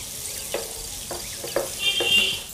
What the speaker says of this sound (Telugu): ఇలా సన్నగా తరిగిన ఉల్లిపాయ ముక్కలు వేసుకోవాలి.